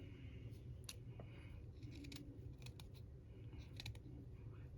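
Scissors snip repeatedly through material, cutting strips for a pom pom flower, with sharp irregular cuts spaced across a steady low room hum and no talking.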